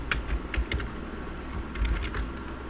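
Someone types on a computer keyboard with quick, close clicks and soft thuds in short bursts and pauses. No one speaks.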